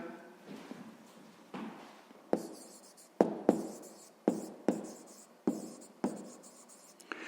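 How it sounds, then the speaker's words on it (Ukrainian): Pen writing out a math answer on paper, a series of close, dry scratching strokes and sharp taps in an irregular rhythm, quiet with no talking. "Просто записуємо відповідь."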